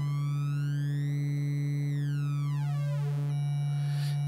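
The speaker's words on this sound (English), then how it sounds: "put the density knob somewhere and then change the warp knob to see what that" XAOC Devices Odessa synthesizer sounding a steady drone while its warp knob is turned, the comb-like overtones sweeping upward, holding, then bending down and shifting, with a constant low hum underneath and no talking.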